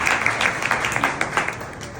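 Applause from a group greeting the first-ranked student of an exam, a steady dense patter of many hands clapping with small uneven peaks, fairly close and filling the whole moment.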